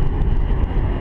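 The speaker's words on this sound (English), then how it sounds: "We got planes going right over the top of us" Airplanes passing right overhead during parasailing 1200 feet above the Big Island of Hawaii, a loud, steady low engine roar that fills the whole second with no talk.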